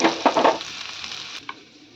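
Onion hissing in hot oil in a pan, with a brief burst of crackling sizzle at the start that settles into a softer fry and one small clink near the end.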